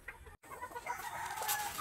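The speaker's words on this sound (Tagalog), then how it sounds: "simulan na natin ang pagpapakain ng ating mga tinaling manok" Tethered chickens and roosters awaiting feeding, a continuous overlapping chorus of clucks and crowing from a flock, fairly close and busy, with no talking.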